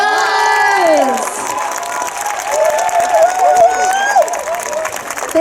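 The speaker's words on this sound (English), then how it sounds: "Guys, a round of applause" Comic Con convention audience applauding and cheering after a cast Q&A panel, loud crowd clapping with whoops and high excited shouts throughout, voices calling out over the applause.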